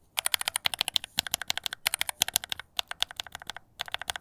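Rapid typing on mechanical keyboard switches with too much lubricant, close up, sounding as dense bursts of clicky keystrokes broken by short pauses, with no talking.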